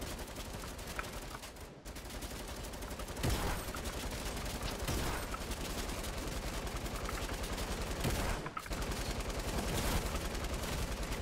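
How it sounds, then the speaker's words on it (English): Gunfire in the Fortnite video game: sustained rapid bursts of shots, loud and dense, with brief pauses between volleys and no clear speech. "Ooh, he's shooting me, oh, he's shooting me."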